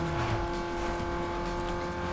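Nitrous boost kicking in on a car in the racing game Need for Speed Underground 2, a steady loud engine roar with a rising whine carrying through the whole moment, no voices.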